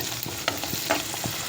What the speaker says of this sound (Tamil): வெங்காயம், உப்பு எல்லாமே நம்ம வதங்கிடுச்சு இல்லையா